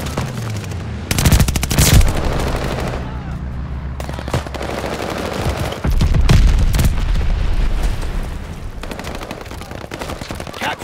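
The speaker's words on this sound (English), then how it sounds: "Friendly bombing run inbound." A bombing run in a video game brings dense machine-gun fire and heavy booming explosions, loud and continuous, with deep rumbling blasts rising around the middle and end.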